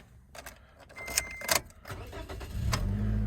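A 2011 Scion xD with 95,145 miles cranks and fires up close by, a brief starter whir and a few clicks settling into a steady low idle hum.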